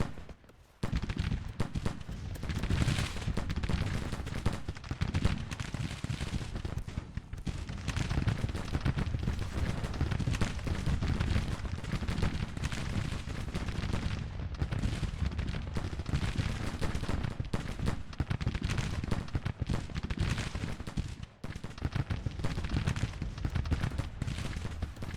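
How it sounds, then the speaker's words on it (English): Sustained Civil War artillery counter-battery fire in Grand Tactician, a continuous rumbling barrage of cannon booms and musketry layered densely over one another, steady and loud throughout. "Start firing counter battery."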